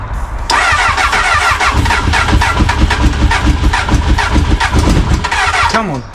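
The engine of a crashed Honda Hornet motorcycle cranks loudly and steadily on the starter, chugging close up without catching, then winds down to a stop.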